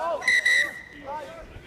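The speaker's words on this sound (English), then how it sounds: "There's double whistle." A referee's whistle at an under-18 basketball game gives two sharp, shrill blasts in quick succession, loud against arena crowd noise and a commentator's voice.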